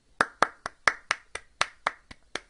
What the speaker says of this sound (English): Now I will do my honorary clap.